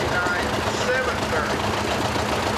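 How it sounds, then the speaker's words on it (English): A 1959 John Deere 830 tractor's engine runs with a steady low throbbing chug at a fair, while an announcer talks over it. "Drew Emerine, a 1959 John Deere 830"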